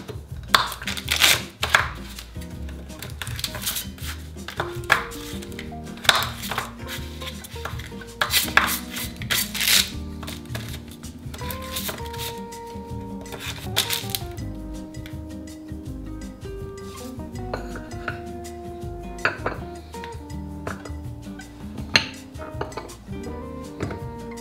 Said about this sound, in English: I'm just going to gently slice off the excess chocolate on the bottom